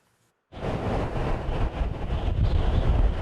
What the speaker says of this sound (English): This is what life-threatening weather looks and sounds like.